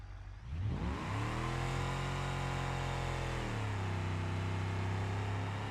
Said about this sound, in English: So this is a supercharged V8 if I'm correct.